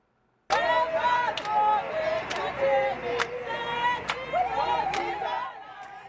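An excited crowd gathers at the Selma anniversary march. Overlapping voices chatter and call out, punctuated by several sharp clicks or claps, before the sound drops away at the end.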